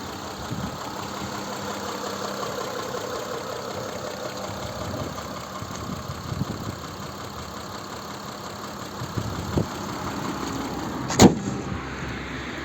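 A 2007 Mitsubishi Outlander XL with a 3.0 V6 petrol-gas engine idles with the hood open, a steady even hum that stays close and fairly quiet throughout, with a few small clicks and one sharp knock near the end.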